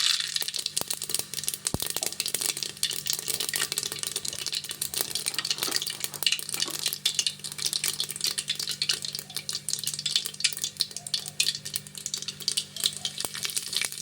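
Mustard seeds, cloves and star anise fry in hot oil, producing a dense, crackling sizzle with rapid popping spatters that runs continuously and fairly loud, with a low steady hum underneath and no talking.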